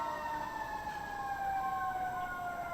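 Police sirens wail from a distance, their steady sliding tones ringing faintly through a city street with no one speaking.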